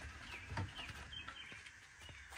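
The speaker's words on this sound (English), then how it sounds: "Birds are fucking birds happy. Chirping." Birds chirping outdoors on a fine day near a garage, faint scattered tweets and calls over a steady background hiss, with no talking.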